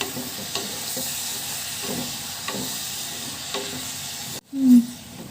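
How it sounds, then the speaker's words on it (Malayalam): Green chillies sizzle and hiss in a hot frying pan, with a few soft stirring scrapes at intervals and a brief louder burst of sizzling near the end, no talk. "നന്നായി വഴണ്ട് വരട്ടെ."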